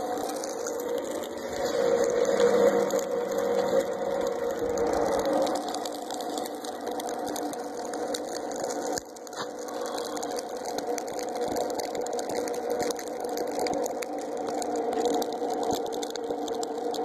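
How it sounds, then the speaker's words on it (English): An electric fan motor blowing air into a forge runs as a steady, continuous mechanical whir with a tonal hum, close and even throughout, with one brief dip partway. "There's my motor control for the fan."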